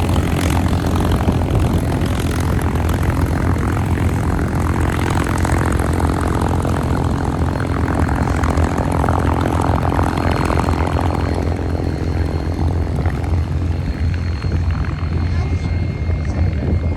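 Loud, continuous roar of a fighter jet passing at the AERO Gatineau-Ottawa airshow, with a broad, sustained rumble that stays heavy across the whole pass.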